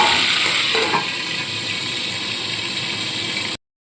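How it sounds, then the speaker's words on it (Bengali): Boal fish heads frying in hot oil give a loud, steady sizzle with crackling spatters, continuous and close throughout before cutting off abruptly near the end. "আর আমি অফ স্ক্রিনে এই মাছ ভাজাটা করছি কেননা যেহেতু মাছ ফাটে প্রচণ্ড"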